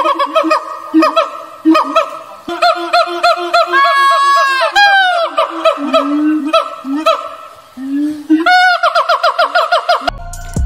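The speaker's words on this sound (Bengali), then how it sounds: "প্রথমে এরা নিজের পাউচটি এভাবে ফুলিয়ে নেয়, তারপর এ ধরনের আওয়াজ বের করে যা একটা পাখির মতো শুনতে লাগে।" A monkey inflates its throat pouch and gives loud, bird-like honking calls in a rapid series of rising and falling tones, with a few pauses between bursts.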